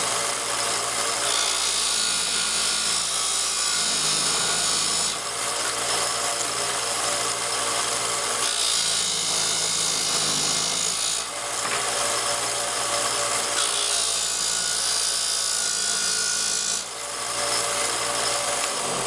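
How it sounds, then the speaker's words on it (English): A small disc sander grinds wooden fish fin pieces, a loud continuous whirring rasp with repeated surges every few seconds as each piece is pressed against the spinning disc, with no talking. "I just put them on my little disc sander here. I'm going to turn that on"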